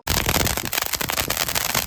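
A mojito-style firecracker from a Christmas cracker combo goes off in a loud, continuous burst of dense crackling and popping that lasts the whole stretch without letup.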